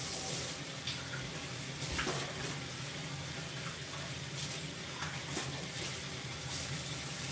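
Hot water runs steadily into a sink while bristle brushes are washed, a continuous hiss and splatter with occasional clinks and bumps, close by and with no voices.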